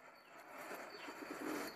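Flock of pigeons being fed wheat grain, giving soft overlapping coos and rough squawks with some chirps and possible wing flutters, steady and fairly close throughout with no talk.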